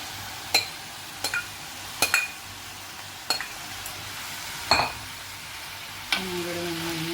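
Tomato and prawns frying in a pan under a soft sizzle, with several sharp clinks and scrapes of a stirring utensil at irregular intervals and a brief tonal hum near the end.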